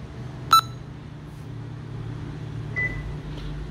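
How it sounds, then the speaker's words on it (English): A Hyundai Genesis G80 locking its doors from a smartphone app: a sharp click and brief chirp, then a soft tone, over a low steady hum of idling or ventilation. "Door's just locked, and it confirms it on the phone."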